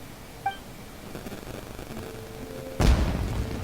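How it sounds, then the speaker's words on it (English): A single loud boom from a firework exploding in the video game Genshin Impact lands near the end after quieter game sounds and a small chime, then a lingering rumbling tail. "It sounded like fireworks."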